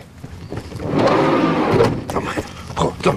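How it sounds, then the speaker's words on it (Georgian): A car's power window hums as it closes, followed by a few short mechanical clicks and thumps of the car being shut and locked nearby. "მე მანქანას დავკეტო"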